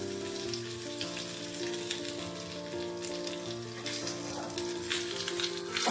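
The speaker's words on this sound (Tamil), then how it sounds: "கடுகு போட்டிருக்கேன், ஜீரகம் போட்டிருக்கேன், கொஞ்சமாக பெருங்காயம் தூவுறேன், கருவேப்பிலை" Mustard seeds, cumin, a pinch of asafoetida and curry leaves crackle and sizzle in hot ghee for a tempering, a close, steady frying hiss with light popping, under faint tonal background music and without speech.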